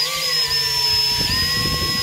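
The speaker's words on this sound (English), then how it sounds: "I'm going to just set the drill into the hole, and I'm going to run it just a tiny bit, very slow" A variable speed power drill whines steadily at low speed driving a screw, a high thin motor tone with faint grinding as it drives in, no talking.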